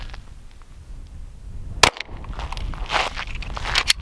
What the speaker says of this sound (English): Next caliber is gonna be the 9mm, 115 grain, full metal jacket.